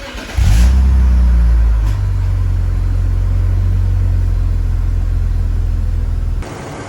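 A cheap used BMW car revs up and accelerates, its engine giving a loud, close, deep rumble that rises sharply and then holds steady for several seconds before cutting off near the end.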